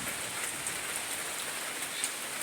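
Heavy rain pours steadily and loudly in a dense, continuous hiss with scattered drops spattering on surfaces, and no voices.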